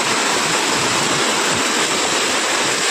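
Rain-swollen river after heavy rain in the Dooars area of North Bengal, rushing loudly in a steady broadband roar that fills the whole stretch without pause, no voices over it.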